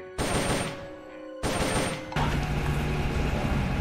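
Bursts of rapid video game gunfire sound up close and loud, with a brief lull near the one-second mark before the shooting resumes and continues steadily to the end.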